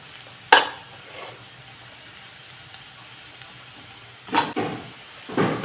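Onion and radish frying in hot oil, a soft steady sizzle punctuated by a few sharp crackling bursts and stirring scrapes, close and fairly quiet.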